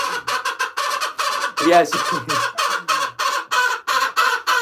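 Chickens clucking at a coop during hand feeding, with geese nearby: loud, close, choppy bursts of clucks in quick succession, one longer squawk in the middle, and a brief spoken word.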